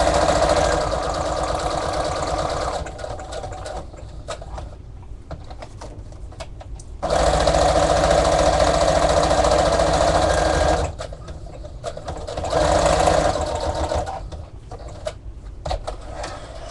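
A sewing machine runs in loud, steady stitching bursts across a scrapbook page, speeding and pausing in several long stretches with quieter gaps between.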